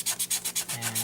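A big knife draws through insulation foam while shaping terrain, giving about eight quick rhythmic rubbing, rasping strokes, close and fairly quiet, with a low hum rising near the end.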